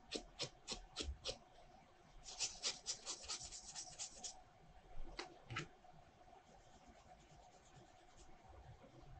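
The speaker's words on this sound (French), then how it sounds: "Un petit coup de ponçage, c'est plus par sécurité que par nécessité." A plastic model kit chassis is sanded after its sprue gates are cut away, brisk rasping strokes in short bursts followed by a few scattered rubs, close and quiet with no talking.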